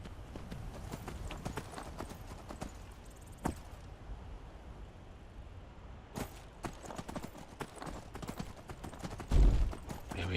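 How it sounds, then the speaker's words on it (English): Horse hooves in the Skyrim video game, a fast clip-clop of galloping steps with repeated sharp thuds, fairly near and moderately loud over low ambient game sound, with a heavier burst near the end. "So I think what we're going to do is we're going to mount our horse."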